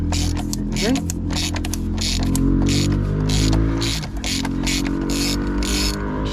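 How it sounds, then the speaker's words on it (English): A hand ratchet clicking in quick repeated bursts while removing a plastic part on a 2009 Audi A3 1.9 TDI, close up over a steady low hum, with someone talking. "you should only need a ratchet to take it off"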